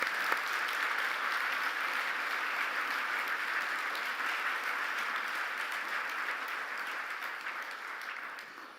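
Audience at an award ceremony applauds the winners in steady, dense clapping that holds at an even level for several seconds before easing slightly toward the end.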